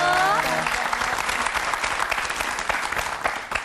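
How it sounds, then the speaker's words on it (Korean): An audience breaks into big, dense applause for a couple, rising right after a brief voice at the start and continuing strongly before fading slightly at the end. "다시 한번 큰 박수 좀 부탁드릴게요"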